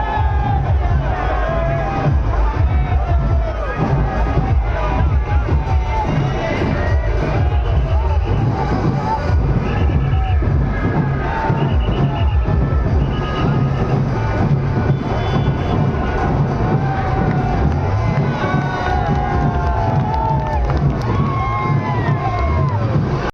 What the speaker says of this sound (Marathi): संपूर्ण मेळघाटामध्ये विजयाचा जल्लोष हा उत्साहात साजरा करण्यात येत आहे